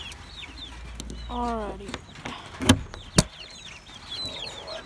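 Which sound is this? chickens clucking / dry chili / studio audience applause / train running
chickens clucking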